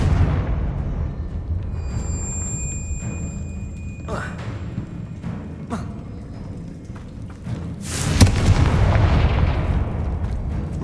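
A Confringo fire spell in a Harry Potter video game detonates as a sharp, loud blast partway through, rising out of a rumbling game soundscape with scattered smaller pops.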